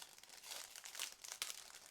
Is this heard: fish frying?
no